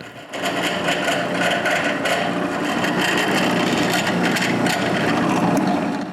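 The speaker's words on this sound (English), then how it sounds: "On one of them I drill a shallow hole, and on the other one, a through hole." A drill bores a shallow hole into a small wooden square in a woodworking shop, producing a steady, close grinding whir that runs continuously without pause.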